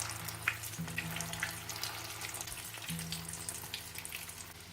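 Shami kebabs frying in oil in a pan, a steady low sizzle running through the whole stretch with faint crackles and a background hum, no talking.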